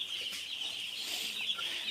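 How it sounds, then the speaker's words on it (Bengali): Broiler chickens in a poultry shed make a steady, soft clucking and chirping murmur from a crowded flock, with no one talking. "সে এখন মুরগি ঘুমাইতেছে, দেখেন খুব সুন্দর করে।"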